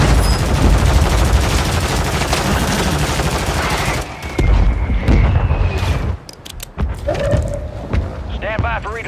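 Gunfire in the video game Warzone: dense automatic bursts and rapid shots roar continuously, then break into separate sharp cracks and booms amid mechanical clatter. Game voice lines and players talking run underneath.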